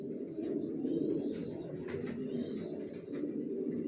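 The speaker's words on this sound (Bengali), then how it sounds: "সব লংয়ের কবুতর পালি আমার লফটে" Racing pigeons coo steadily in a loft, a dense, continuous murmur of overlapping calls from several birds close by, with occasional higher chirps above.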